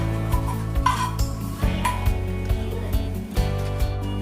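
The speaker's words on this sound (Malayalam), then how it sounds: "ഇനി നമുക്ക് നന്നായിട്ടൊന്ന് ഇളക്കി കൊടുക്കാം" Fried onions are stirred into poti curry off the flame, with a spoon scraping and rubbing against the pot in steady, regular strokes, close up and with no talk.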